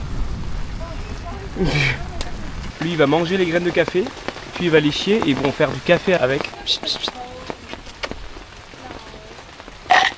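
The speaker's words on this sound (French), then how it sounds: "Juste voilà combien il pleut." Steady rain patters on a surface in Bali throughout, with people talking over it and a few brief clatters near the end.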